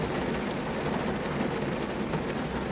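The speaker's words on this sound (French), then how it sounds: "Et là, c'est pas de la petite pluie." Heavy rain falling outside in Brittany, a dense continuous hiss of downpour holding steady and fairly loud throughout, with no voices.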